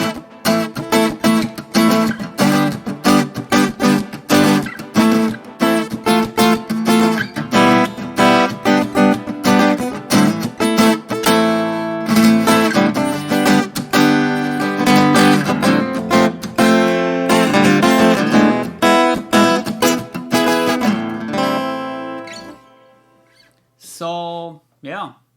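Harley Benton HB 850 acoustic guitar played through a Quad Cortex with a little delay and a flat EQ, strummed in a steady busy rhythm for about twenty seconds, then a few final sparse notes ringing out.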